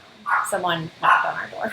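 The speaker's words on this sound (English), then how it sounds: "sorry if you hear my dogs barking in the background" Dogs bark in the background of a home, with a few short barks and yips mixed under an ongoing conversation between people talking nearby.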